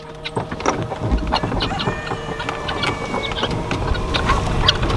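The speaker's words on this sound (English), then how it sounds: "These 4 hens belong to this Chicken Caravan 10, and that rooster, he's just jumped out." Hens and a rooster in a chicken caravan coop cluck and murmur nearby, with scattered sharper calls over a steady farmyard background and occasional brief talk.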